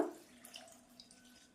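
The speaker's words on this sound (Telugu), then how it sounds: "మిక్సీ జార్లోకి తీసుకున్నాక కొన్ని నీళ్ళు వేసుకోవాలన్నమాట" Water is poured into a mixer jar holding chopped banana leaves, a brief close splash at the start trailing into faint trickling and drips, no talking.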